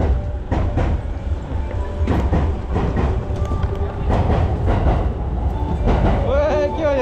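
A train moves through a Tokyo station with rumbling wheels and rhythmic clattering over the rails, loud and close, ending in a rising brake squeal, while people talk nearby.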